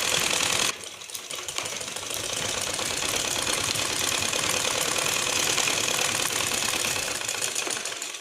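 A sewing machine stitches a wave design on a salwar with a continuous, fast mechanical whir and rattle that starts after a short pause and holds steady and loud to the end.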